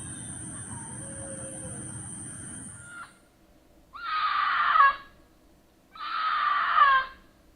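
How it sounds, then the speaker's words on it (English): Two drawn-out, shrill, human-like screams from a possible mountain lion at night in Texas, each lasting about a second, follow a stretch of low background hiss and a fading high tone, heard at moderate distance with no talking. "While mountain lions are no stranger to West and South Texas, something about this one just sounds human."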